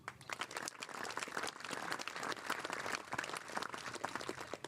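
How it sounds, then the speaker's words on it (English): A crowd at a veterans' tribute claps for a few seconds with dense, continuous applause that sounds slightly distant and fairly quiet, with no clear voices over it. "another round of applause for all of our veterans and all who have served"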